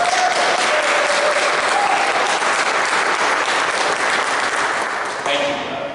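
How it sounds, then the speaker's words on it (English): Sustained audience applause fills a church rededication gathering, dense steady clapping from a crowd close by that holds for several seconds before tapering slightly, with a few voices faintly audible beneath. "We can do that right now with applause."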